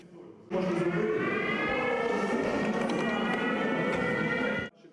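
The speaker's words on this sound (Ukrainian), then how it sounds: "Та майстер-клас перериває повітряна тривога." An air raid siren wails steadily for about four seconds, a loud sustained rising-and-holding tone with no speech over it.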